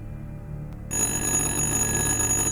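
An old unplugged telephone in a jail area of the video game Little Hope suddenly starts ringing with a bright, steady bell tone that cuts in over low, eerie ambience and continues loudly.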